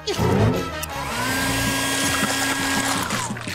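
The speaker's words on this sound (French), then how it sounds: "Essayons la technique du sèche-cheveux." A cartoon hair dryer starts up and blows with a steady whirring whine, rising in pitch as it spins up, then holding a loud, continuous drone.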